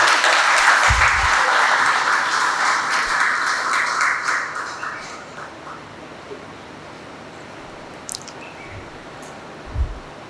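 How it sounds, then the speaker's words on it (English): An audience at a seminary's inaugural ceremony for the new academic year applauds to welcome a professor. The clapping is full and steady for about four seconds, then thins out and fades to near quiet, with a few faint taps near the end. "Let us all warmly welcome him with a round of applause."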